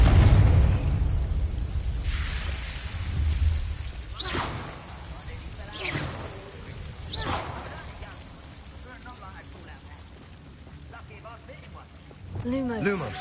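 Fiery spell blasts cast in Hogwarts Legacy, several sharp whooshing bursts in quick succession over a steady rain-like rumble, followed by a quieter stretch and a final crackling burst near the end.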